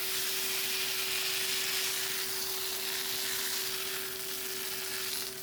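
Cooked tapioca pieces stirred in a hot pan in a home kitchen, a steady sizzling hiss with soft scraping running continuously, close and moderately loud, with a faint hum underneath.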